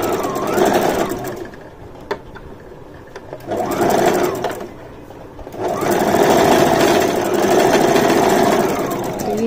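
A sewing machine stitches underwear fabric in three loud, close bursts of rapid mechanical whirring, separated by brief pauses, the last run lasting longest.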